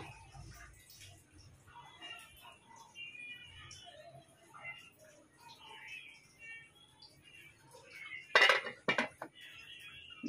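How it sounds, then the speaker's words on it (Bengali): A metal lid set on a pot of bhuna khichuri, a brief loud clatter of metal late in the clip after soft kitchen rustling, with faint talk. "ঢেকে দিলাম দশ মিনিট দমে রাখবো"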